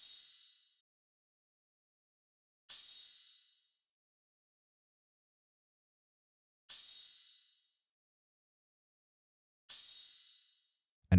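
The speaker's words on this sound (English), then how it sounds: "Lastly, a crash or a rider cymbal, which gave the drums a bit of a sizzle." Crash or ride cymbal from a programmed hip-hop beat, struck alone four times at irregular spacing, each hit a bright, airy wash that decays over about a second into silence.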